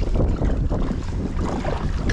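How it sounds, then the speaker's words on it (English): Wind blows across a mountain lake near Cle Elum, Washington, during a kayak outing, a loud, steady low rumble buffeting the microphone with no talking. "Kind of windy today"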